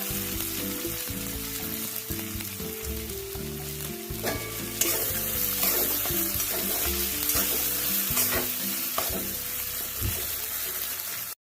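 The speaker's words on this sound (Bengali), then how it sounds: "খুব ভালো করে মশলাটা কষে নেব" Green peas and spices being stir-fried in a pan for a kachori filling. The close, continuous sizzle comes with scraping stirs, and background music plays underneath throughout.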